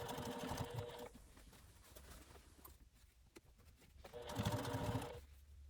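A sewing machine stitches binding around the curved base of a fabric bag in loud bursts, slowing and pausing midway before running again; faint bird cooing sits in the background.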